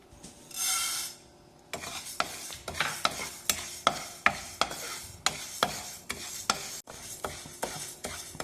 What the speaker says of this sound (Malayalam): അതും ഇതേപോലെ ലോ ഫ്ലെയിമിൽ ഇട്ടിട്ട് സാവധാനത്തിൽ വറുത്തെടുക്കണം